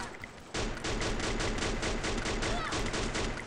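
In the video game Free Fire, rapid automatic gunfire from an M60 starts abruptly and keeps up a fast, loud, continuous burst of shots, with a voice talking faintly underneath.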